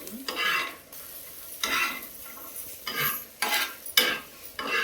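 Garlic, two whole bulbs' worth, stirred and frying in a pan in a home kitchen, with repeated scraping sweeps of a utensil over a soft sizzle, close by and with no talking.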